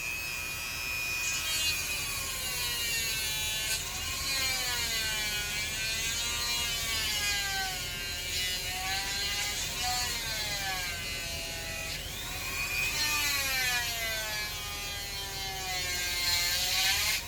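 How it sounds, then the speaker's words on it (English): Dremel rotary tool cutting through hard plastic for a headphone cable mod, a loud steady high whine whose pitch wavers and dips as the bit bogs in the material, running close and continuous with no talk. "Turn the Dremel up a little bit too, because this plastic's a bit harder."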